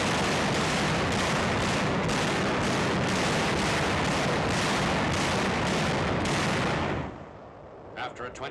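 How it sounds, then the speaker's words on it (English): WWII naval artillery bombardment before a beach landing at Ormoc Bay, a dense continuous roar of gunfire on an old film recording, pulsing steadily before abruptly dropping away to quiet. "After a 20-minute bombardment, the first wave goes ashore."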